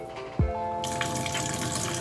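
A sink tap is turned on for handwashing, with a brief squeak and thump from the faucet followed by a steady, close rush of running water that continues to the end.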